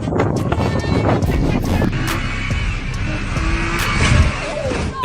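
An off-road vehicle's engine roars and strains in sand, loud and continuous with rising and falling revs, rough grinding texture and gritty spray throughout.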